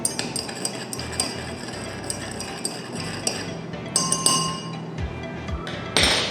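A utensil stirs reactants in a glass beaker, producing repeated bright clinks and taps against the glass in an irregular rhythm, close and clear with no talking.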